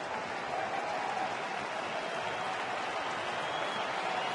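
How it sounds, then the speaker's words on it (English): A baseball stadium crowd in Chicago makes a great deal of noise during a game against Atlanta in June 2010, with many fans on their feet; a dense, steady roar of cheering and applause holds throughout without easing. "the crowd here making a great deal of noise, and a lot of them on their feet"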